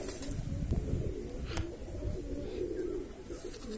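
Andhra Madrasi pigeons coo in a soft, continuous low rumble, close but quiet, with light rustling and a couple of brief clicks over it.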